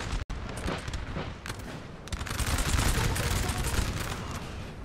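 Artillery and musket fire in a Napoleon: Total War battle at Valmy, 1792, with dense crackling volleys and booming shots that swell into a continuous fusillade, loud and busy throughout.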